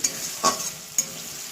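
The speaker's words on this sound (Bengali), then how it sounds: "সবজিটা আমি 2-4 মিনিটের জন্য ভালো করে কষিয়ে নিয়েছি।" Pea pod peels are stir-fried in a pan, giving a steady close sizzle with a few quick scraping strokes of a spatula.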